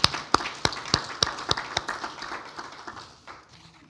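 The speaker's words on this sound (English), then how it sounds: "We're going to give you a round of applause." Applause for church volunteers during a Sunday worship service, with a handful of sharp, distinct claps standing out at first before the clapping thins and fades.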